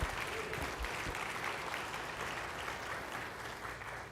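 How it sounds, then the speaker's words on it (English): A round of applause from a dinner audience at a keynote event, dense crowd clapping that holds steady for the whole stretch, moderately loud. "round of applause for Walkem"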